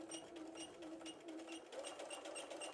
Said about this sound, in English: I'm just going to go to my sewing machine and stitch along this edge